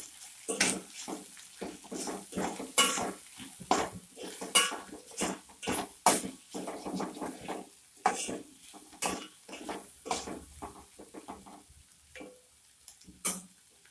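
Metal spoon clinks and scrapes against a pot while egg curry pulusu with turmeric and salt is stirred, in an irregular run of close, sharp clatters with short pauses between strokes.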